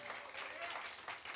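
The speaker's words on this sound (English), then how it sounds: "And a big round of applause for Emily Springer for putting this all toge" Audience applause at an evening jazz event, a steady wash of many hands clapping throughout, fairly faint and distant.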